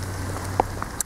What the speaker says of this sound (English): Oh my god, it's raining so hard.